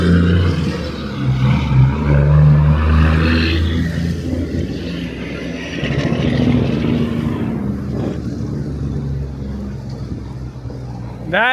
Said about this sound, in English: That is a loud truck.